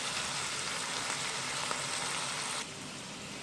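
Steady, close sizzling of chicken frying in a hot pan, drops in volume near the end.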